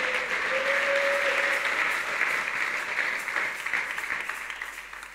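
Congregation applauding in church after a scripture reading, a sustained wash of many hands clapping that holds steady, then thins and fades toward the end, with a faint voice briefly underneath.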